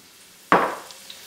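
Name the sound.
onion sizzling in hot vegetable oil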